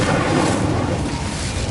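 The Incendio fire spell cast in Hogwarts Legacy, a short loud roaring whoosh of flame that stays dense and even for its brief duration.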